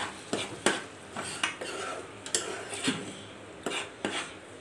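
A spatula scrapes and clinks against a pan while paneer masala is stirred, in irregular, fairly close strokes, with a faint sizzle underneath.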